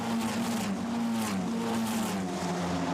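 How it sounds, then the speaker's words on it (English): Formula Renault Eurocup single-seater race cars at Monza stream toward the Variante Ascari, a dense layered engine roar with shifting pitch as several cars pass, steady and fairly distant under a constant wash. "Look at this long line of cars diving down towards the Variante Ascari."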